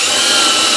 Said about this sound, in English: I'll do that by putting a drill hole here on each side